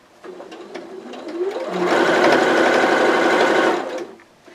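A sewing machine stitches the straight seam of a pillowcase baby dress, starting with a few slow clicks, rising into a fast, loud, steady whir, then winding down to a stop near the end.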